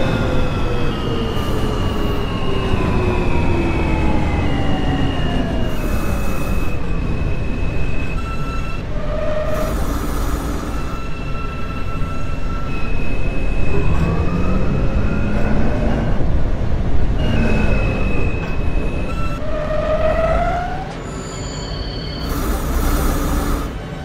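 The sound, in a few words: R160 E express subway train, OpenBVE train simulator game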